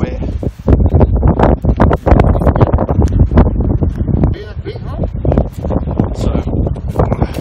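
Heavy wind buffets the microphone on the Barwon River at Barwon Heads during fishing, a loud continuous rumbling roar with gusty swells, and a voice talks over it.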